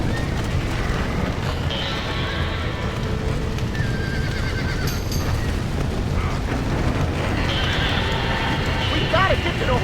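In the video game Red Dead Redemption, horses in a burning barn whinny and neigh amid clattering hooves, with shouting voices and chaotic background noise throughout.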